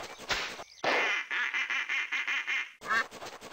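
Cartoon duck quacks from a Windows 3.1 party game come in a rapid, evenly spaced run of nasal calls, loud and close, bracketed by brief louder bursts of game sound at the start and end.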